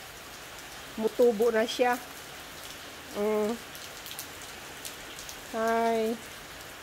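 Steady light rain falls over a backyard vegetable plot with eggplants and lemongrass, a constant soft hiss beneath a few short spoken phrases.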